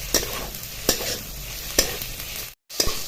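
Whole spices being stir-roasted in a pan for a spicy Pandharpur-style bazaar amti, with a dry hiss under four sharp scraping strokes of a spoon, steady and close, broken by a brief silent gap.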